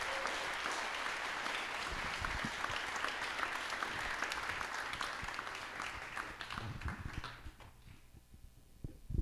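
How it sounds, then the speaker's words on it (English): A large audience at a food-is-medicine event in Edmond, Oklahoma gives sustained applause, a broad wash of clapping that holds steady for many seconds before tapering off near the end. "Let's give him a big round of applause."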